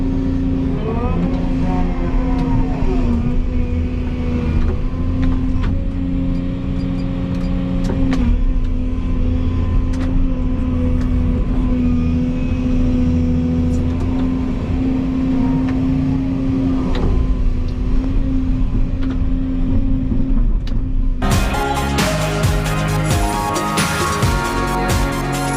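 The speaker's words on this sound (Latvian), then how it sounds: "Brauc ārā no bedres." A car drives out of a pit with a steady, loud engine drone and low rumble close by, then a sudden louder, harsher noise near the end.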